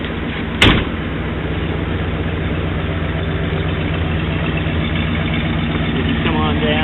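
A 1968 Ford Galaxie 500 with a plain straight-through exhaust and no mufflers idles steadily outdoors, a low throbbing rumble held throughout, opened by a brief sharp thump like a door shutting.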